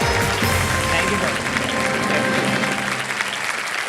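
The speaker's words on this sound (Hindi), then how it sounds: "तालियां बजती रहे इनके लिए" Steady, dense applause from a studio audience on a television quiz show fills the space, loud and continuous, fading slightly toward the end.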